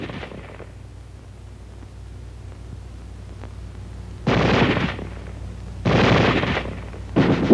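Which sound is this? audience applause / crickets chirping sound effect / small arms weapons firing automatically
small arms weapons firing automatically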